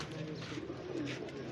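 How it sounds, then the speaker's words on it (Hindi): A perched pigeon, its feathers stained with blue ink, gives soft, low coos, faint and close, against background murmur. "इधर एक कबूतर बैठा हुआ है"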